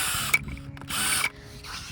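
A power drill with a small attachment drives insulators into a horse paddock fence, giving two short whirring bursts with brief rattling and handling noise between them, close by.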